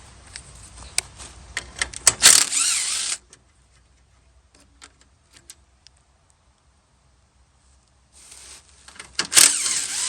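A drill works on the hood latch mechanism of a Ford Mustang II, cutting in with two loud, close whirring bursts separated by a quiet stretch, and light ticking and clicking before the first burst.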